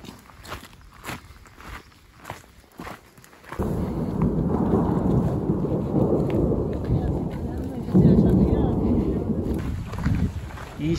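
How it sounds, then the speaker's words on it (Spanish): A mountain thunderstorm opens with footsteps and brushing sounds, then heavy thunder and rain roar in as a loud, sustained wash of noise that swells near the end, with wind buffeting the microphone. "Ya se escuchan los truenos"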